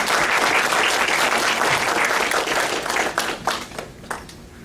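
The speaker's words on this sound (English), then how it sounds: "a round of applause, please," An audience applauds Paul Kennedy, co-chair, at a college event: thick, sustained clapping that gradually thins into a few scattered, separate claps as it dies away.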